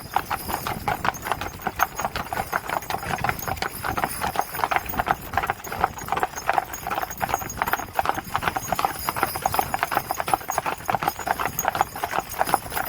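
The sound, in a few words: horses' hooves clip-clopping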